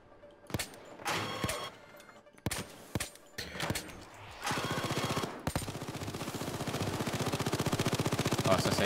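A sentry gun opens up in the heist shooter Payday 2. Sharp separate shots and short bursts come first, then a long, rapid, relentless stream of automatic fire builds steadily louder.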